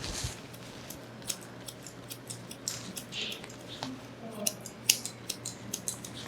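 Grooming scissors trim a dog's coat into a lamb clip during a pet groomer certification exercise, giving a steady series of quick, light snips and clicks over a soft background hum.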